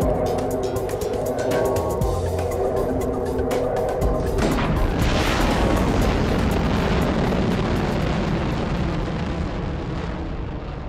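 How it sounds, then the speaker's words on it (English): A rocket in the Spyro Reignited Trilogy launches with a loud, continuous roaring blast that swells into a broad rushing rumble and holds for several seconds. "The rocket's fueled up and ready to go"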